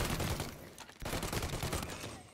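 Rapid bursts of gunfire in the Mafia Definitive Edition video game crackle loudly and continuously, a dense fusillade with a brief gap partway through.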